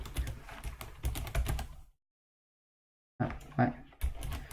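Close computer keyboard typing in quick bursts, separated by a silent gap, with a voice speaking briefly between keystrokes.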